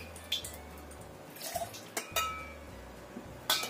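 Fried potato and tofu pieces lifted from a pan of oil and set to drain, with a few scattered metallic clinks and scrapes of utensil against cookware over a quiet kitchen background.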